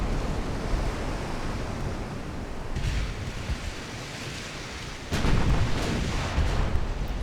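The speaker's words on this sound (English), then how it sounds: "looks like we're going to start getting our 8-inch guns firing" Heavy 8-inch naval guns fire in the World War-era dreadnought game UA: Dreadnoughts, booming through a steady roar of wind and surf, with the loudest burst of blasts arriving near the end.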